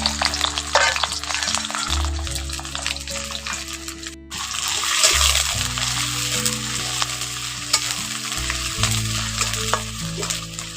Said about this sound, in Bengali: এর মধ্যে এখন পেঁয়াজটা দিয়ে ভালো করে একটু ভেজে নেব